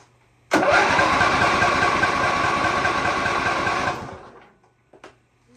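A Briggs and Stratton 26hp engine, low on power, cranks over rapidly for about three and a half seconds in a loud, close, even whirring burst, then stops, leaving a couple of faint clicks.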